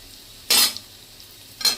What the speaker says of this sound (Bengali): নেড়ে নিলাম, নিয়ে এবার এই গুড় দিয়ে মেশাবো